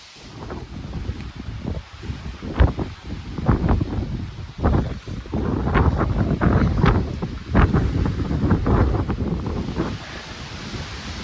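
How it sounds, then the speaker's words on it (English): Strong gusty wind on a White Mountains ski slope buffets the microphone, roaring and rumbling in uneven surges throughout with no one talking. "But as you can tell, pretty windy today."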